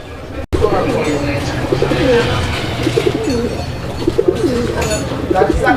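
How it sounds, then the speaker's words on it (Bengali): A colourful pair of racer pigeons coo close by in repeated rolling, throaty phrases, with faint voices underneath. "দেখার মতো কালারফুল একজোড়া রেসার কবুতর আছে"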